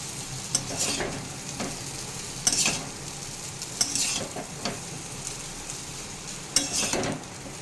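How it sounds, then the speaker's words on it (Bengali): Egg chow mein with potato and onion being stirred in a hot pan, steady sizzling broken by periodic scraping strokes of a utensil roughly every second or so, close and moderately loud, no voices. "এবার এটা মেশাতে থাকবো।"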